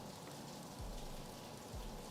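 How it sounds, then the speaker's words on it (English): Rain falls outside in Southern California as a steady, faint, even hiss of drops, with two brief low thumps partway through. "But it's raining like a motherfucker right now."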